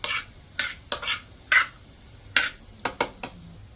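Garlic fries in a pan while being stirred, with a soft sizzle broken by repeated sharp scraping strokes of the utensil against the pan, fairly close and with no voices.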